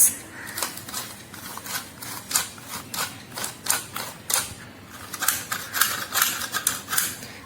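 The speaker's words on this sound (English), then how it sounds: "Now let's sieve this." Dry dessert ingredients with a pinch of salt are sifted at home, giving a steady run of quick scratchy rasping strokes in an uneven rhythm, close and fairly quiet, with no talking.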